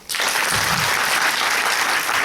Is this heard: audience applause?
yes